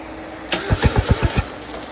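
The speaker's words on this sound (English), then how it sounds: "I'm gonna insert a clip now of when the head gasket popped" A Miata's engine cranks and catches with a rapid series of about six sharp, chugging pulses, close and fairly loud, in a short burst that suggests rough running from a failing head gasket.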